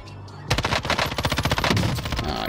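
Rapid automatic gunfire from a double assault rifle loadout with an AS44 in Call of Duty Warzone Rebirth, a loud continuous burst of rattling shots that starts half a second in and runs to the end.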